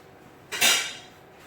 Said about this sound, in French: on prend la poêle